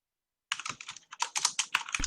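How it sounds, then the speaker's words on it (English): Rapid clacking of a loud computer keyboard, a dense burst of keystrokes starting after a short silence and continuing in uneven clusters, close and prominent with no voices. "I had muted to avoid some of my really loud keyboard"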